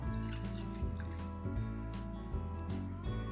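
Oil and water sloshing inside a covered bottle as it is shaken, a steady liquid slosh with drip-like splashes, close and moderately loud, over a low sustained tonal hum.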